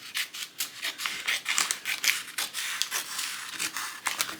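Scissors trim Cricut Smart Transfer Tape for a Halloween vinyl craft, giving a close, quick run of crisp snipping and rustling cuts with no talking.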